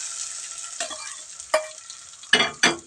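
Mustard seeds splutter in hot oil for eggplant pachadi: a quiet hiss broken by four sharp, crackling bursts, the last two close together and loudest.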